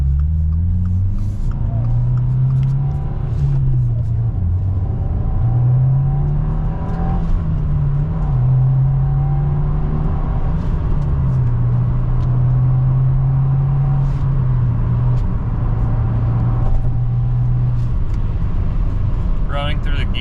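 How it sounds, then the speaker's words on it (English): Subaru WRX with a 2.4-liter engine accelerating hard through the gears, a loud steady in-cabin engine drone whose pitch climbs and drops with each shift, with faint road rumble throughout. "Rolling through the gears is really fun in the WRX."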